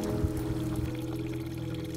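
A public street fountain in Basel splashes and pours continuously, a steady close wash of running water with no break.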